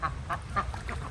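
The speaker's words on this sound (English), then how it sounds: "And the females quack." A female duck on a small homestead gives a quick run of four or five nasal quacks in uneven rhythm, close by and moderately loud over low background rumble.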